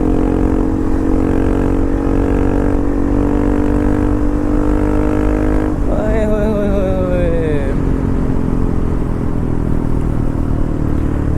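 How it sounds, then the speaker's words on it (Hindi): Bajaj Pulsar RS200 motorcycle exhaust while riding at night, a steady loud engine drone with a rising rev sweep midway, then settling back to a constant hum. "अरे जो साउंड आ रही है ना यार इस टाइम एग्जॉस्ट में"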